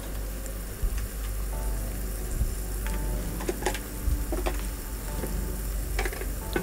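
Vermicelli pasta with chopped tomato and capsicum stir-frying in a pan, a steady close sizzle with scattered scraping and clicking of the stirring utensil, with no talk.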